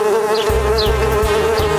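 Steady insect buzzing, like bees in a swarm, fills the clip with a continuous drone and a few pulsing low thumps underneath.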